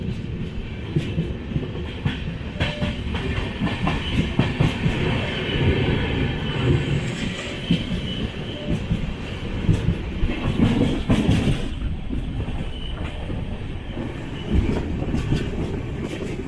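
The Tambaram Superfast Express runs at speed on rails near Tirunelveli, heard from inside the train as a loud steady rumble with rhythmic wheel clatter and no break in the noise.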